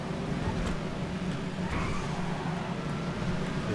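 A Dominator GTX muscle car engine in GTA 5 rumbles steadily and loudly throughout, a continuous low growl with broadband road-style noise and no clear revving peaks.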